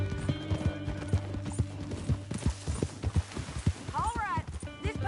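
Hooves clip-clop in a steady rhythm as a horse is ridden in the video game Red Dead Redemption 2, close and clear, with a short whinny partway through and characters talking over it.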